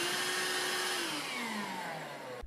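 A Hoover Air Cordless 20V lithium-ion bagless hand vacuum cleaner running up close: a loud, steady motor whine whose pitch slowly falls, then cuts off abruptly at the end.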